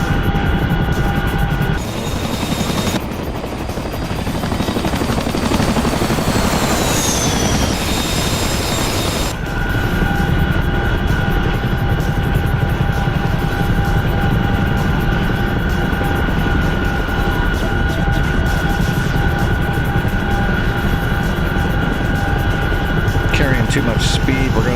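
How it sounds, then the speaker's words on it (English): Interior of a Chinook helicopter in flight: a loud, constant rotor and engine roar with steady droning tones that shift slightly partway through, with talk over it. "Yep, we're in the Chinook right now."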